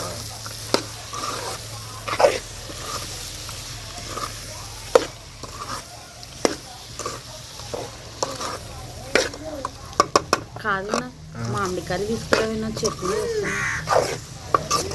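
Drumstick curry being stirred in a pan in a village-style kitchen, with soft scraping stirs and light sizzling running throughout, scattered utensil clinks, and a voice talking intermittently over it.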